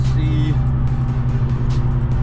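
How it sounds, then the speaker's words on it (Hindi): A BMW drives by on a Canadian road, giving a loud, steady engine and tyre rumble that holds for the whole two seconds. "वो देखो यार BMW की गाड़ी है"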